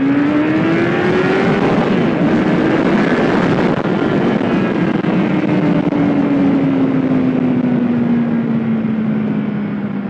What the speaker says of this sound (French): Oh, une voiture en bas.